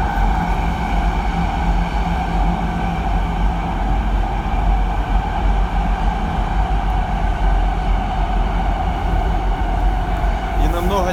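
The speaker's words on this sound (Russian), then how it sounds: "Мы идем в польское метро в центр." Inside a moving Warsaw metro train, a steady loud rumble of wheels and motor hum runs throughout, with a faint squeal or door sound near the end.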